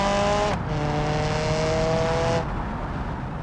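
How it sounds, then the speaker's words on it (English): Revving engine of a 4-cylinder 2-liter open wheel race car in the BeamNG video game, a loud sustained droning rev that holds steady, then drops in pitch and eases off toward the end. "It's revving like it's a big old V8, even though it's a 4-cylinder, 2-liter."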